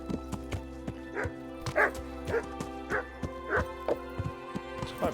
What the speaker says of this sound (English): There's a doggy.